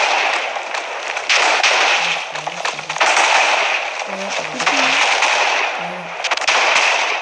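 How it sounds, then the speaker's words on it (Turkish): Explosions from a chain of roughly 1,550 TNT blocks in Minecraft Pocket Edition, a dense crackling barrage of blasts rolling on continuously, with a person laughing and talking over it. "evet hala patlıyor"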